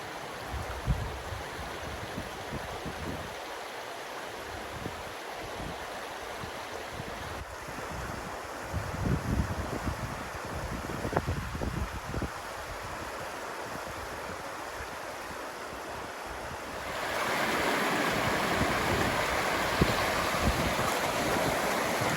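Rushing water of the River Heddon and wind fill the scene, with sea waves washing into the cove at Heddon's Mouth, North Devon; the flow swells louder and steadier toward the end.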